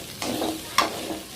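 Masala idli is stirred and sautéed in a kadai: two quick scraping strokes over a soft sizzle, close and brief.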